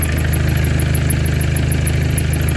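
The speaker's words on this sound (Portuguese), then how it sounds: "Vamos acelerar o carrão aí." A car engine running during a late-night drive, heard as a close, steady low rumble with a faint rhythmic pulse and no clear rise in revs across the short stretch.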